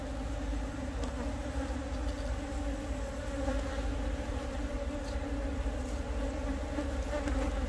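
A honeybee colony hums inside the hive as a beekeeper expands the comb, a dense, steady buzzing drone that fills the whole stretch, close and continuous with no talk.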